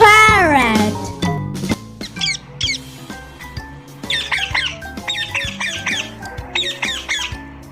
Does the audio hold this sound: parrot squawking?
yes